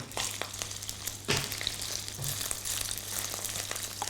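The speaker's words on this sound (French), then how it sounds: "je vais faire cuire mes crevettes" Shrimp sizzling in a hot pan, a continuous crackling fry with scattered sharp pops and spits, close and fairly loud, with a few louder bursts as the shrimp shift in the oil.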